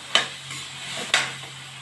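A spoon scrapes and stirs ground spice masala of Kashmiri chilli, coriander and cumin as it fries in a pan for egg curry, with two sharp close scrapes over a faint, steady sizzle.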